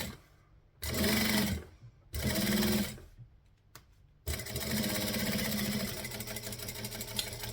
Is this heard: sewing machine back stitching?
yes